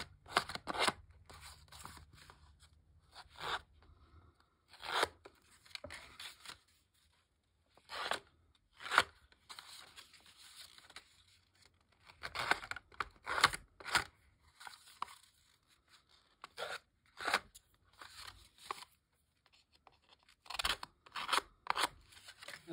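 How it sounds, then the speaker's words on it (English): The corner of a pair of scissors is scraped along a paper edge to fray it, making close, repeated bursts of dry rasping strokes separated by short pauses. "scrape it along the edge, and it'll kind of fray the paper a little bit"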